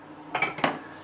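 Two quick ceramic clinks, close by, like a cup knocked against dishes, in an otherwise quiet moment, in a kitchen.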